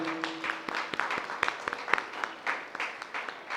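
A church congregation at a combined Christmas carol service claps for the choir and musicians, scattered individual claps building into uneven, moderate applause nearby, with a brief tone at the start.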